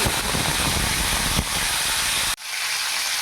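Long strips of raw papaya hit hot refined oil in a pan, giving a loud, close, steady sizzling hiss that drops off sharply near the end.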